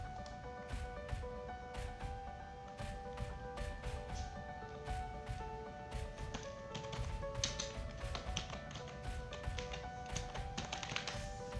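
Someone types on a computer keyboard while entering a job in QuickBooks, producing a steady stream of light, close key taps over faint sustained background tones.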